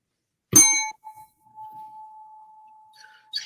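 A single bright notification bell ding rings out clearly, then its pure tone lingers and slowly fades in near silence, followed by a faint short chime at the end.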